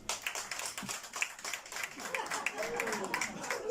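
Sparse, thin applause from a small comedy club audience at a stand-up show. Scattered hand claps run steadily for a few seconds, with murmuring voices mixed in.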